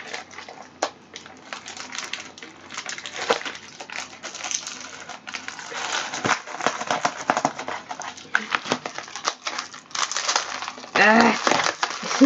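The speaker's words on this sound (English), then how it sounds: "let me take this packaging off so you can see it a little better." Packaging is pulled off a box of Aldi chocolate truffle eggs, producing continuous close crinkling, crushing and tearing of cardboard and wrapper, busy and irregular, louder toward the end.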